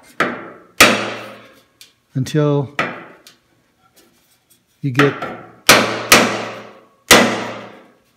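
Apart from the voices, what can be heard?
tapping car fender with hammer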